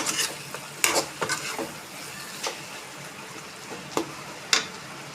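Bitter gourd curry stirred in a pan after water has been added, with scattered spoon scrapes and clinks over a soft background hiss, close and moderately loud.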